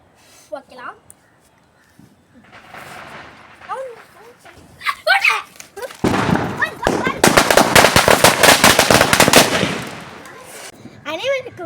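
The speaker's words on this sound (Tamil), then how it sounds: "நான் இப்போ பட்டாசு வைக்க போறேன்" Voices chatter and shout during a Diwali celebration, then a long rapid string of loud cracking firecracker bangs bursts out for several seconds before fading back to voices.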